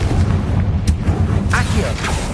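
A Confringo explosive spell blast in Hogwarts Legacy, a sharp magical burst followed by booming rumble and crackling, with a voice speaking over it.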